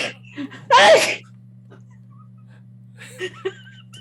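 A single sharp, loud sneeze near the start, followed by quiet room hum and a few soft voice sounds afterward.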